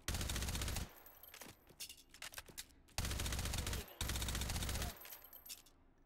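Automatic gunfire fired from the hip in the VR game Hot Dogs, Horseshoes & Hand Grenades: several sustained loud bursts of rapid shots separated by short pauses with clinks and handling noises, and a little talking.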